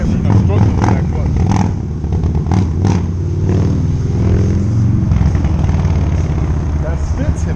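A Harley-Davidson motorcycle engine runs and revs up close in a steady rumble, with voices talking over it throughout.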